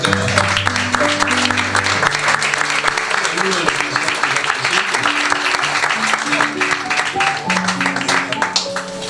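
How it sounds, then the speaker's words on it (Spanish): A crowd at a church anniversary celebration in Lomas de Zamora applauds the grill cook, with steady clapping that fills the room throughout, mixed with voices and some tonal sound underneath. "pedimos que un aplauso para el asador"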